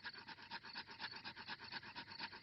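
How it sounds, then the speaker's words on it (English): Steady, rhythmic rasping of two wooden sticks rubbed hard together to light a campfire in a cartoon, a quick back-and-forth scraping that continues without pause. "I'm going to make fire the old way by simply rubbing these two sticks together"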